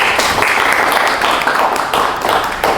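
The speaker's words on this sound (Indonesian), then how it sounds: "Aplaus untuk narasumber." Audience applause for speakers at a talk show on stunting prevention, steady clapping from a crowd sustained throughout, fairly loud and even.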